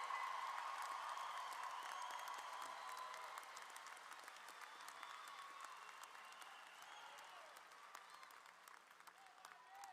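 An audience at a high school commencement ceremony applauds honor graduates, a broad wash of many hands clapping in a large hall that slowly fades over about ten seconds.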